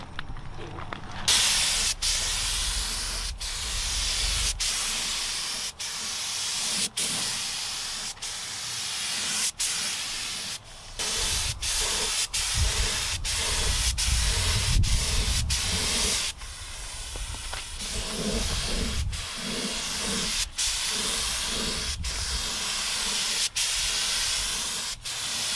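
High build primer is sprayed onto a car body panel in long hissing passes. Sharp trigger clicks break up each spray burst, and the hiss stays close and loud throughout.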